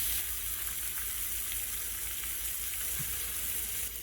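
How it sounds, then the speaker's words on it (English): Bacon and jalapenos fry in olive oil across several pans, giving a steady, close, unbroken sizzle with no voices. "I'm also going to just put a little bit of olive oil in this third pan, and we're going to start frying our jalapenos"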